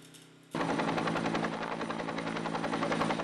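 Rescue helicopter over a flooded area in Podravje during the November 2012 floods, its rotor bursting in loudly after a brief quiet moment and then chopping steadily and close for the rest of the clip.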